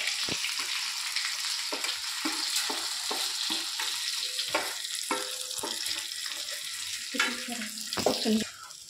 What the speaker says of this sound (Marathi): मसाल्याला तेल सुटेपर्यंत आपण मसाला चांगला परतून घेऊया